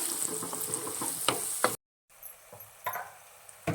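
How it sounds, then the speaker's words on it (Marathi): Onions sizzling and frying with salt in a hot pan, with a steady hiss broken by a few stirring scrapes, a brief pause, then more sizzle and scraping. "कांद्याबरोबर मीठ पटकन शिजवायचा परतून घ्यायचा"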